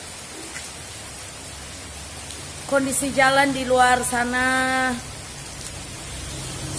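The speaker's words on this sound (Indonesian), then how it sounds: "Hari ini di Perumnas 3 Bekasi Timur sedang hujan" Steady rain hisses down outside in Perumnas 3, Bekasi Timur, a constant wash of noise running the whole time, with someone speaking briefly in the middle.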